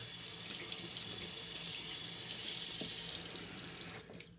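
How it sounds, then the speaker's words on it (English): Tap water runs steadily onto a shaving brush at a sink for a vintage wet shave, a close hissing stream that thins and breaks into drips and small splashes near the end. "I like to add a good amount of water to my brush."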